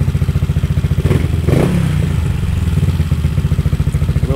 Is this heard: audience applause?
no